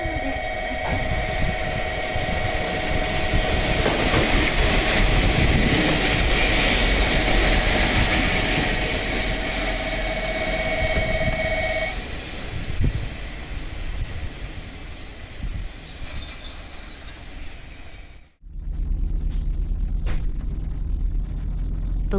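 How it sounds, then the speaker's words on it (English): A local train pulls into platform 3 at Shin-Iizuka Station in Fukuoka, a loud sustained rumble with a steady tone that fades, then a sharp cutoff and a quieter hum, no voices. "3番乗り場に列車が到着します。"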